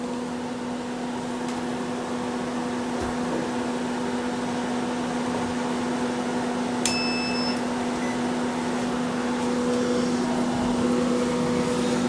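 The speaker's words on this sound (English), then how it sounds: "I'm going to see if the microwave works." A steady low electrical hum runs throughout, with a brief high beep partway through, from a microwave oven running in a 1964 Airstream Globetrotter trailer.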